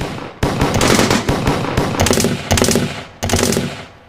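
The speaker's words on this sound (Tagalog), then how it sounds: "Nagsimula na nga kaming magpaputok ng mga baril." Rapid bursts of gunfire erupt in a soldiers-versus-rebels ambush scene of a Filipino aswang audio drama, loud cracking volleys in several clusters separated by brief pauses, sharp and close, with no talking.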